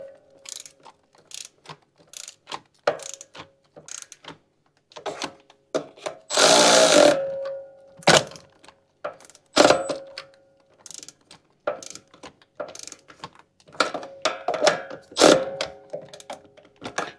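A ratchet tightens bolts on a Kohler engine from a Toro Z Master mower, giving repeated bursts of close, crisp clicking strokes with short pauses between them and one louder clattering burst partway through.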